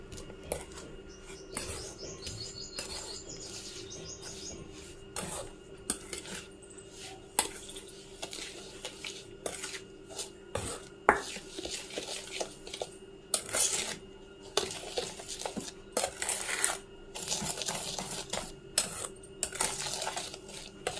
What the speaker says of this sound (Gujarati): હવે તમામ વસ્તુ છે ને સારી રીતે આપણે મિક્સ કરી લઈશું